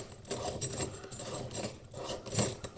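Metal scrapes and rubs against metal as a wall light shade ring is tightened by hand on a timber cottage lamp fitting, in short repeated grinding strokes, close and fairly quiet.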